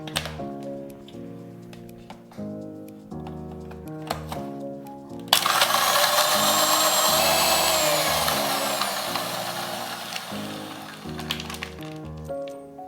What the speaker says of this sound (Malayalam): എന്നിട്ട് നമുക്കൊന്ന് നല്ലോണം മിക്സിയിൽ അടിച്ചെടുക്കാം